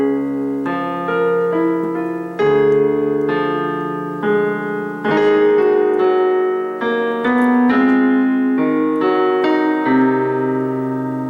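Piano plays a slowed-down passage of a piece from Over the Garden Wall, with sustained chords and a melody line moving over steady left-hand notes, clear and close with no talking.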